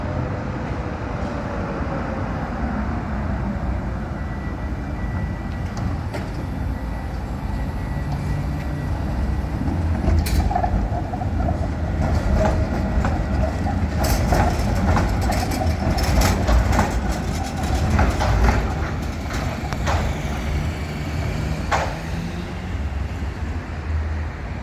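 A train rolls through a pre-station switchover in Budapest, a steady rumble with clickety-clack over the points and sharp metallic clicks and squeals midway, loud and continuous throughout.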